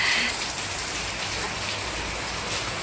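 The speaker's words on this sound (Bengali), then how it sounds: "ঝমঝম বৃষ্টি পড়তেছে।" Steady downpour outside a house on a flooding rainy day, a thick, even wash of raindrops drumming on surfaces, close and continuous with no voices.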